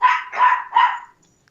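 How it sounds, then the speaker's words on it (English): A dog gives three loud, close barks in quick succession during a scuffle with a cat, then falls silent, with no one talking. "It's the cat and the dog fighting."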